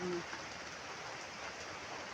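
A constant, soft wash of rainfall fills the background, even and unbroken, with a brief faint tone at the very start.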